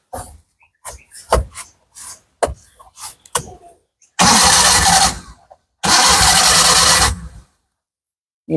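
A cheap used motorcycle at a bike showroom near Kolkata starts up loud and close in two bursts, each roaring for about a second before cutting off, after a run of sharp clicks and knocks.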